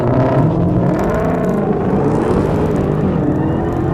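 A muscle car launches hard at a drag race with wheel spin, its engine roaring loud and steady at close range for several seconds with no talking over it.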